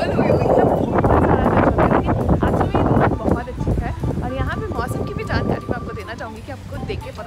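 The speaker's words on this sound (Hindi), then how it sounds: "यहाँ पे बहुत हवा चल रही है और यहाँ पे हल्के हल्के बारिश भी पड़ रही है" Strong wind blowing outdoors with light rain falling during a Diwali outing in Canada, a loud, steady rushing roar that buffets the microphone and eases slightly toward the end.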